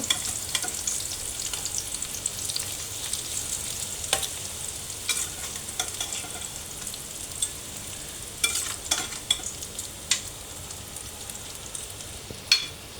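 Spiced bitter gourd slices fry in hot oil with a steady close sizzle, broken by occasional sharp scrapes and clinks of stirring.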